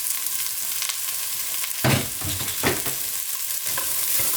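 Onions sautéing in a pot for lentil soup, a steady sizzle with a few stirring scrapes, close and alone.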